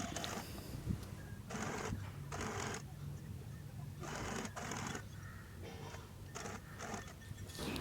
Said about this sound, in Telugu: దానిపైన బోర్డర్ పెట్టి స్టిచ్ చేస్తున్నాను